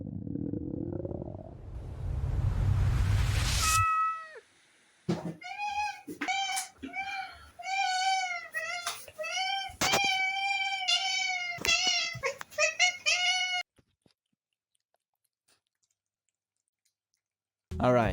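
Hungry cats meowing in a rapid run of short, close, repeated cries with little clicks between, following a burst of noise and ending in near silence.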